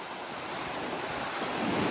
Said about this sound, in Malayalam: കടൽ ഇത്തിരി റഫായിട്ടുണ്ട്,